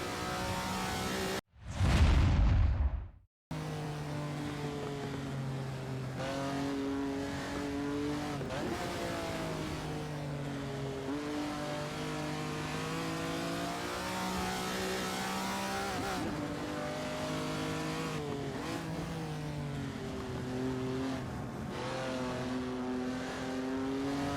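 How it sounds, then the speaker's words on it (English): A Ferrari 250 Testa Rossa race car accelerates through a corner with a loud, close, sustained engine drone whose pitch rises and falls across gear changes, after a brief burst of wind buffeting near the start. "Gentle with the throttle here, as you can see, because we are accelerating, but we are also turning at the same time"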